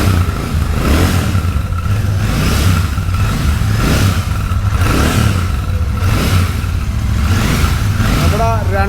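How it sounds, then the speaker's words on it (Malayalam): A Super Meteor 650 motorcycle with twin silencers revs its engine in rhythmic pulses, each burst rising and falling under a low, throaty exhaust drone, with a brief voice near the end. "ജസ്റ്റ് ഒന്ന് റവ് ചെയ്യുകയാണെങ്കിൽ ഉറപ്പായിട്ട് നമ്മുടെ സൂപ്പർ ബൈക്കിനുള്ള അതേ സൗണ്ട് നമുക്ക് കിട്ടും"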